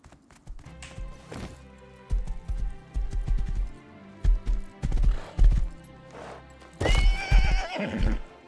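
In the survival game Rust, a horse snorts and clip-clops in uneven bursts of close hooves, then ends in a loud, shrill whinny, all without talk.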